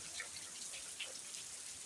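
Light first rain of the season falls in scrubland, a faint soft patter with scattered drips over a quiet hiss, heard alone without voices.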